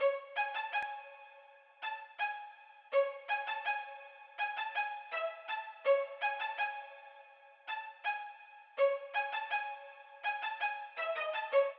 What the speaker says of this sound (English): I added the string spiccato